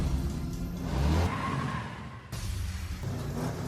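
Racing car engines roar and rev loudly in a movie race, the pitch climbing then cutting off abruptly, followed by steady engine drone with faint tire noise.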